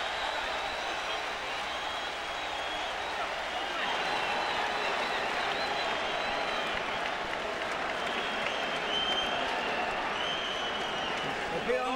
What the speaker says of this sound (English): and the crowd is on its feet again.